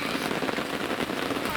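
Steady rain pattering down outdoors at a carp fishing swim, a dense, even hiss with scattered crackly drops, close and continuous throughout.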